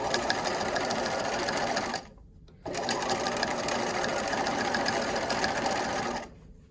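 A sewing machine stitches a fleece beanie in a steady, close, buzzing whir. The run stops briefly, then starts again and continues until it halts near the end.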